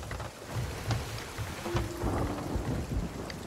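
A thunderstorm with rain in the pirate game Sea of Thieves, steady rainfall on surfaces with low rumbles of thunder and scattered creaks underneath, continuous and fairly loud, without talk.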